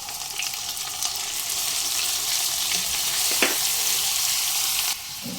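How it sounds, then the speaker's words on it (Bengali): Onion frying in a pan with oil makes a continuous, close sizzle that holds steady, with a brief stir or scrape near the middle. "একটু ভাজা হতে দেব পেঁয়াজ একটু ভাজা হয়ে এলেই"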